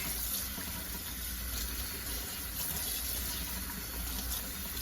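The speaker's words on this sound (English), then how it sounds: "So we need to rinse everything." Corn husks are rinsed under running water from a tap, a steady, full gushing stream that holds even for the whole stretch, close and fairly loud with no one speaking.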